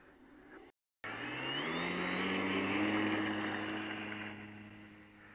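An RC model plane's electric motor whines up after a short silence into a loud rising tone that swells as it climbs away, then slowly fades a little.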